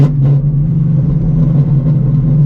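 A 900HP Shelby GT350 with a new clutch drones loudly and close up under a hard pull, a steady heavy engine rumble with no talk.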